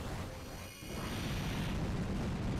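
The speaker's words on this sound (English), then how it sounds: "There it is. There's the explosion." Explosion move in the video game Pokémon Star Sapphire: a quiet, low booming blast that swells after a brief dip and lingers as a rumbling burst, with no talk over it.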